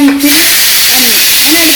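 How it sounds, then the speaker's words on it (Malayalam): A pressure cooker on a gas stove hissing loudly as it releases steam through its whistle, a steady close-up rushing hiss lasting the whole moment, with a voice talking over it. "ആ വിസിൽ ഒരു വിസിൽ വന്നു"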